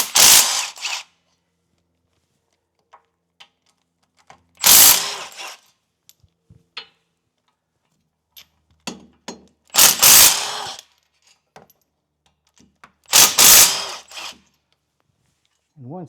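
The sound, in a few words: ratchet removing 14mm wheel bearing bolts on a Subaru Outback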